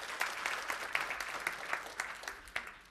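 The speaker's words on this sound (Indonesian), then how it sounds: "Kita beri tepuk tangan, saudara." Applause from a church congregation after a sermon on prayer, a steady wash of many hands clapping at moderate distance, continuing evenly throughout with no talk over it.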